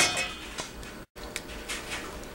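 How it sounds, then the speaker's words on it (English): Dry ingredients are mixed into wet lemon crinkle cookie dough in a bowl, with soft scraping and a few light clinks of a utensil against the bowl, moderately quiet and unaccompanied by talk. "I'm going to mix that into the wet ingredients"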